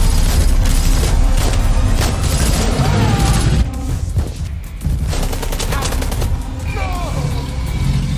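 Dense, loud battle noise with rapid gunfire bursts and heavy booms, continuous throughout, with a brief dip partway before the barrage resumes.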